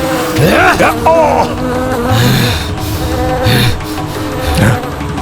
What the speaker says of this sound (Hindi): ये भिनभिनाहट जैसे